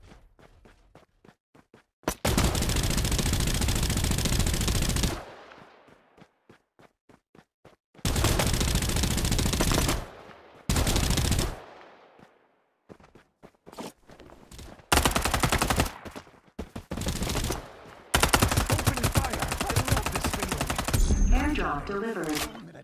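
Bursts of automatic gunfire from the video game Farlight 84, several long sustained volleys and shorter rapid bursts with brief gaps between them, loud and close.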